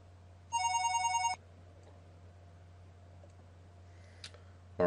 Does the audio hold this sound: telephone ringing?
yes